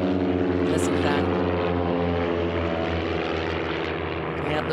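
A race biplane's propeller engine roars past loudly during an air race, a steady droning buzz with strong harmonic tones that swell and fade slightly, with speech faintly mixed in.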